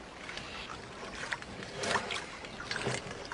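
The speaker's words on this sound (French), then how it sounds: "De tout petits mouvements, les rames bien en main, la symétrie dans les gestes." Oars stroke through water as a small boat is rowed with short, symmetrical movements, soft splashes and drips recurring over steady background wash, close and fairly quiet.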